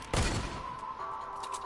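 A single sharp gunshot blast in a video game, loud and close, with a short booming tail and a faint ringing tone trailing after it.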